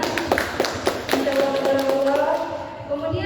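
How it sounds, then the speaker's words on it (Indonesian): Seminar audience applauding in a hall, a steady wash of many hands clapping with a few sharper claps standing out, while a voice speaks over it throughout. "tepuk tangan semuanya"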